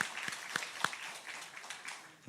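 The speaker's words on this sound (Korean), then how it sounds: "한 번 더 박수해 주시죠" A church congregation claps during a Sunday worship service in Sokcho, South Korea, with fairly quiet, scattered clapping and a few sharper individual claps standing out.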